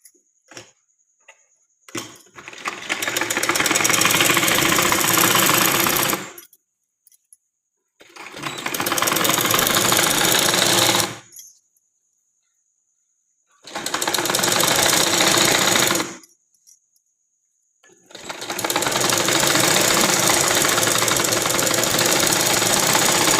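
A sewing machine stitches an umbrella dress in four long, loud, steady runs of rapid needle chatter close by, with short quiet gaps between them.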